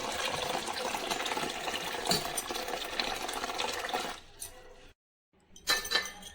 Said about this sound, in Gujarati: કેળાને આપણે પાણીથી સાફ કરીને ધોઈ નાખશું